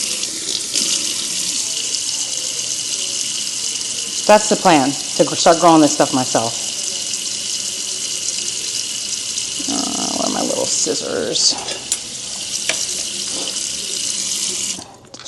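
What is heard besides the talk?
water running from kitchen tap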